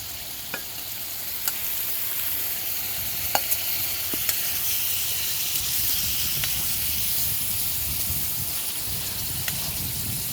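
Liver and kidneys frying in a kazan for kagyrdak, a steady bright hiss of sizzling oil with occasional sharp pops and a low stirring rumble, close and continuous with no talking.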